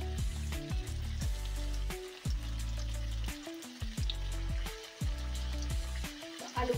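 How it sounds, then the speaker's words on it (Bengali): Potatoes frying in hot oil for biryani, a continuous sizzle with bubbling and occasional spoon clinks, steady and close without any talk. "আলুগুলো ভাজা হয়ে গেছে।"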